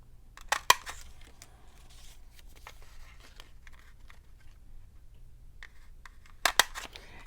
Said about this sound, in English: I'm going to cut a little notch in those.